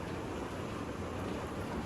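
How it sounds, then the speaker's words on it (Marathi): Heavy rain pours outdoors on a Diwali day, a dense, even hiss of downpour that holds steady throughout the short stretch with no voices. "आणि पाऊस चालू झाला आणि चांगला जोरात पाऊस आहे"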